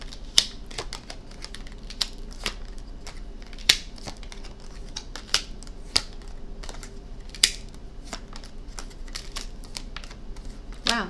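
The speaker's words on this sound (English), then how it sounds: "I'm going to throw down these cards" Tarot cards being laid down onto a surface, giving scattered light taps and flicks with a few sharper snaps over a quiet background.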